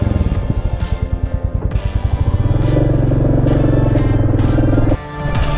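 A Royal Enfield motorcycle starts and settles into a loud, rhythmic thumping idle with revs, a deep pulsing single-cylinder beat heard up close with no talking, before a brief dip near the end.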